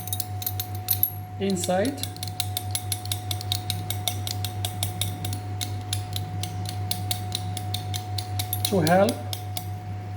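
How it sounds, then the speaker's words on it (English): A glass rod scratches the inner wall of a test tube during a potassium cation identification test, giving fine rapid scraping ticks in two short bursts under a steady hum, with a voice speaking briefly. "after scratching the inner side of the test tube"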